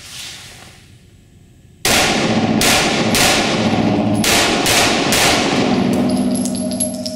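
A Taran Tactical Combat Master Glock 19 pistol fires six loud, sharp shots at a steady, slightly uneven pace after a quiet start, each crack ringing out over sustained echo.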